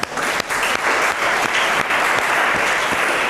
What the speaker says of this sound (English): Clap for Manisha.